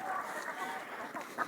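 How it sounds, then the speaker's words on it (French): A Silkie hen clucks softly nearby, a few short murmuring clucks over a low background hum, faint and brief. "voilà une poule nègre-soie, pas la même, pas comme tous les autres"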